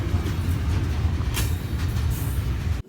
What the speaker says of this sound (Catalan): Per aquí mateix, aquí sota, passa el tren.